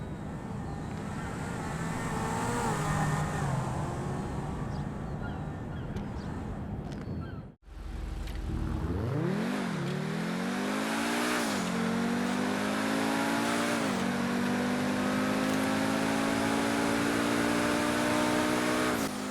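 In GTA Online, a Zaruso sports car engine roars and revs, dropping out for a moment before surging back and rising through several gear changes, loud and close throughout.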